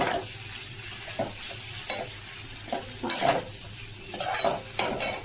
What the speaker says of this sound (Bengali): কচুটা আমার মশলা দিয়ে কষা হয়ে গেছে